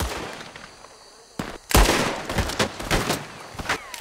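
A Red Dead Redemption 2 gunfight opens with one sharp shot. Then comes a loud close blast and a rapid scatter of cracking gunfire, with echoing reports overlapping through the rest.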